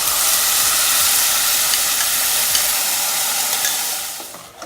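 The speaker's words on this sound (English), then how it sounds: "now I'm going to add the puree that we made from the spinach and other things" Spinach puree hits roasting spices in hot oil for restaurant-style palak paneer, giving a loud, steady broadband sizzle with stirring scrapes that holds close and continuous before easing off at the very end.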